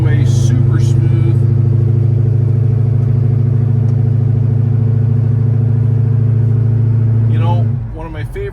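A 1968 Chevrolet Chevelle Malibu with a 396 big-block V8 pulls away smoothly, a loud, close, steady engine drone with a strong low hum that fades near the end as a voice starts.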